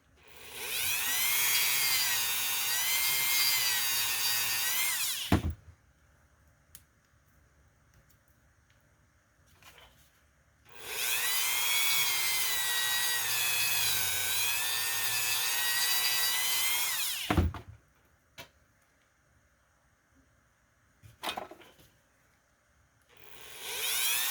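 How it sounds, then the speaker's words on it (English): A Dremel cutting wheel grinds a groove into a small footpeg part for a paper Star Wars playset, two long, loud, steady whining bursts of about five seconds each, separated by near-silence and a few faint clicks. "making a groove. And the width of the Dremel cutting wheel is pretty good."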